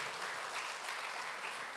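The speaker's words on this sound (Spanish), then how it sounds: "Dele un aplauso a Cristo Jesús" A church congregation applauds Christ Jesus during a Spanish-language sermon on Jonah, a dense, steady wash of many hands clapping throughout with no gaps.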